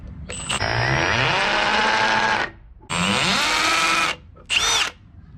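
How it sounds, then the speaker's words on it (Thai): A Milwaukee M18 hammer drill bores into concrete in hammer mode, running loud and close in three bursts of about two seconds, two seconds and half a second, each with a rising whine and rattling impact buzz, short pauses between. "เจาะปูน เห็นไหมครับเจาะง่ายเลย อันนี้คือเบอร์สองโหมดกระแทก"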